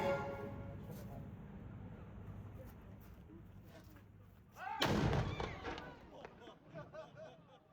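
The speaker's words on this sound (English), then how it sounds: "We arrived just in time for the daily cannon firing." A single deep cannon boom rings out partway through, fired as part of the daily ceremony at Castle Cornet, Guernsey. It sits over steady outdoor crowd murmur and people talking, and a short reverberant tail follows.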